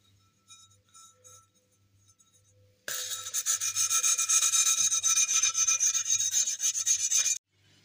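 Hand sanding with P500 sandpaper, a loud, close, steady scratchy rasping of quick strokes that runs for several seconds and then stops abruptly. Faint ticking and low hum come before it, and no one talks.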